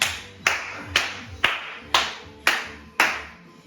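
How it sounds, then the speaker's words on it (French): Six single hand claps after a HIIT pyramid workout, evenly spaced about half a second apart, each crisp and close with a short echoing room tail, no talking. "Tu peux t'applaudir bien fort."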